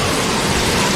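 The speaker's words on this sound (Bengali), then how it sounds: "এমন সময় নদীতে ঝড় উঠল প্রচণ্ড এবং শুরু হলো বজ্র বিদ্যুৎ সহ" A cartoon thunderstorm over a river in the Sundarbans brings a loud, dense wash of heavy rain that roars steadily for about a second.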